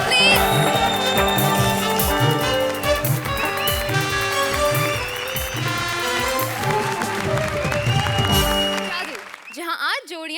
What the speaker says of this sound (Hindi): जोरदार तालियां भारती और सुकेश के लिए, प्लीज